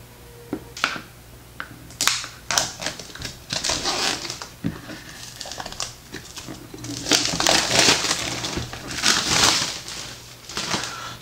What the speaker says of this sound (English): let's quickly take out the top plastic cover that it comes in